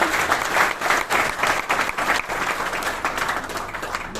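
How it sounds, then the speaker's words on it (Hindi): Enthusiastic applause from an audience, a thick, continuous wash of clapping that swells in waves, loud and near. "मैं एक बार अपने गुरु रामेश्वर जी के लिए जोरदार तालियां चाहूंगी"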